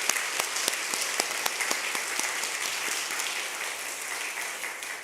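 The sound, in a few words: church congregation applause welcoming new members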